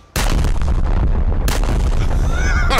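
The Schwerer Gustav railway gun fires in the War Thunder video game with a single enormous, close boom. A long roaring blast rumbles on afterward, then a second crack cuts in, leaving a rolling, whistling tail.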